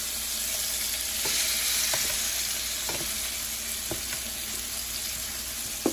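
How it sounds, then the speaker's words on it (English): Beef neck bones sear in a hot pan with a steady, loud sizzle that fills the whole stretch, with occasional soft clicks and scrapes as pieces are turned, and no voices. "And then I'll bring you guys back when they're all seared up."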